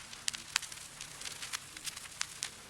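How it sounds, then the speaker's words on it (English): Vinyl crackle texture from a sample kit gives soft, irregular pops and ticks scattered over a quiet hiss, steady and close, with no voices. "just like some nice vinyl crackles"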